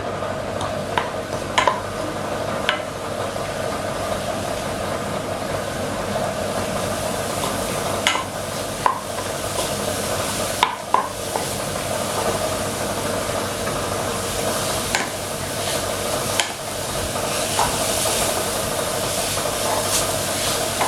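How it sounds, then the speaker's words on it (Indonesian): Grated coconut and egg snack stirred steadily in a frying pan, a soft continuous sizzle and hiss with occasional scraping clicks of the utensil against the pan, fairly close and without talk. "Diaduk-aduk terus dan jangan ditinggal."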